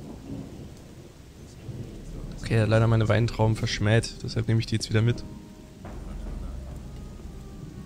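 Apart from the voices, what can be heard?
rain and thunder in video game Gothic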